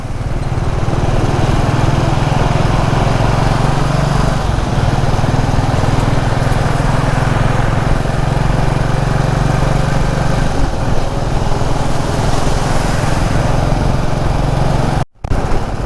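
Steady motorcycle engine drone with road and wind rumble while riding through busy traffic at Perungalathur during lockdown, loud and continuous with a brief dropout near the end.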